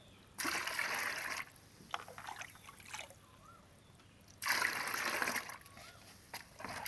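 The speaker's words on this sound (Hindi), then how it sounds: "1 मग फर्टिलाइज़र है, तो 2 मग पानी इसमें ऐड करेंगे।" Water is poured from a mug into orange peel liquid fertilizer in two loud, close bursts of splashing, each lasting about a second or two, with quieter dribbles and handling noises between.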